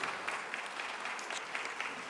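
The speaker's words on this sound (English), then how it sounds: "can you give them a huge applause?" Audience applause for musicians at the Science New Zealand Awards 2025, a soft, even patter of many hands clapping at a distance, steady throughout the short stretch.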